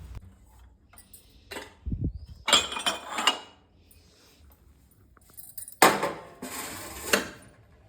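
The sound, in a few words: washed dishes being put away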